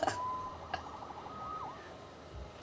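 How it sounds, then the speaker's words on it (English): A faint electronic police siren in Marvel's Spider-Man wails with a rising and falling tone, distant and thin, alongside a couple of brief clicks. "Saved by the siren."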